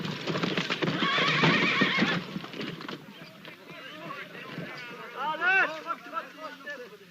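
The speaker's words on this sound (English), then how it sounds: "That's what I call riding a horse." A horse whinnies loudly over pounding hoofbeats at a gallop, with a second neigh rising toward the end; voices murmur faintly underneath.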